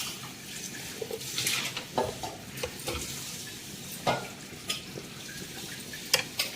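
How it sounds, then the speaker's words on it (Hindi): Food stirred in a pot over a low flame on a home stove, a soft scraping and clinking of a spoon against the pan repeating in irregular strokes under a faint steady sizzle. "अब इसको मैं ऐसे ही चलाते रहूँगी देखिए"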